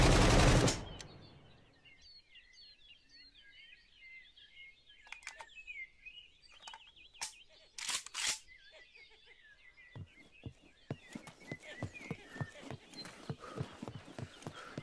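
Gunfire from weapons in the open-world prison video game SCUM: scattered sharp single shots, then a rapid run of evenly spaced shots near the end, over faint bird calls and ambient background.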